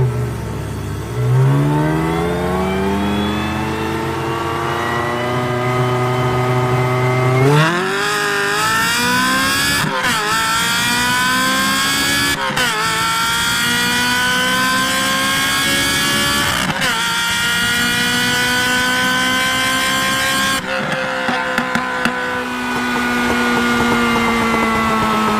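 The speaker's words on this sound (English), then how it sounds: "I will say the Capristo on the 355 is the best sounding exhaust" A Ferrari 355 fitted with a Capristo exhaust revs hard, its high, shrieking engine note climbing and holding through repeated throttle blips, loud and close with a rich, harmonic-laden wail and brief drops between rises.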